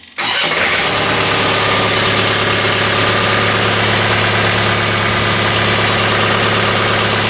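A 110 tractor loader backhoe engine cranks and catches at once, then settles into a loud, steady, rattling diesel idle close by that continues without pause, with no talking.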